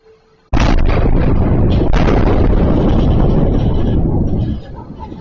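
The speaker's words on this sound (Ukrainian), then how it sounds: "Місто здригається від гучного вибуху." A sudden, very loud explosion from a ballistic missile strike on a city centre bursts out of near silence and rumbles heavily for several seconds before fading.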